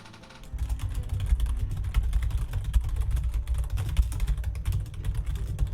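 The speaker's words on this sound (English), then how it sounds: "He starts typing." Fast, continuous typing on a laptop keyboard, close and clear, a busy patter of key clicks that starts after a half-second pause and runs steadily without talk.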